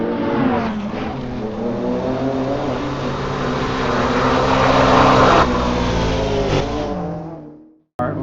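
A 2020 BMW X6M accelerates hard on the Nürburgring, its engine note loud, close and rising steadily under full throttle for several seconds before cutting off abruptly near the end.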